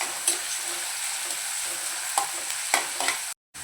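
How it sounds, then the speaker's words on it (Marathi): Onion being sautéed and stirred in a pan until soft, for a Malvani sprouted val birde, giving a steady close sizzle with a few sharp spatula scrapes and taps, no talk. "परतवून घेऊया कांदा नरम होईपर्यंत।"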